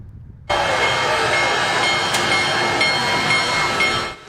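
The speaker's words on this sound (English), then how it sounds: "watch the legendary steam engine arrive at the Rocky River train station" Big Boy steam locomotive arriving at Rocky River train station, a loud sudden rush of steam hiss and rolling rail noise that holds steady, with brief sharp accents, before cutting off.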